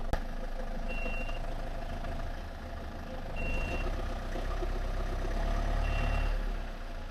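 A car engine in first gear strains against the applied handbrake, a steady close drone that swells slightly as it is given gas, with a repeating high beep sounding three times in the background.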